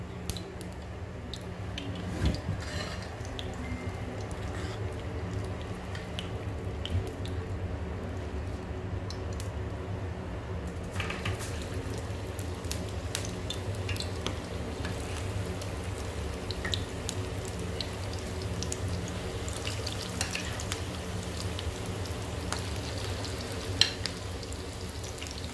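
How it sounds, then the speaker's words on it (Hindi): Spinach pakoras frying in hot oil in a pan, a steady, dense sizzle and crackle running continuously at close range, with occasional small pops and clinks and no talking. "इस तरह से मैं ये सारे पकौड़े डाल दूँगी और इनको अच्छी तरह से फ्राई कर लूँगी।"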